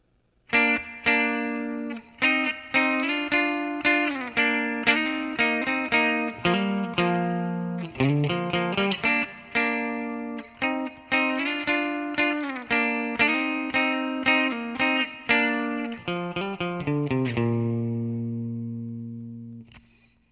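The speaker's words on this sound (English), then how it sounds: "Then we're into the guitar solo." An electric guitar solo from a song, with distortion and chorus, plays quick melodic runs and bends, close and loud, ending on a sustained note that rings out.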